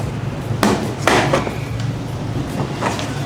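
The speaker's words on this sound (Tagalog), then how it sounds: "Para matanggal, gamit tayo ng pry tool." A pry tool pops loose plastic side panels on a Kymco Xciting S 400i scooter, giving a few short, sharp clicks and knocks close by over a faint background hum.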